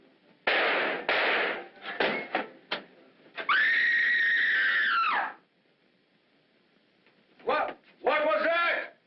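A woman's long, shrill scream rings out in a 1945 film, loud and sustained for about two seconds, set among sharp bursts and shouted voices, followed by a pause and then a second rising wail.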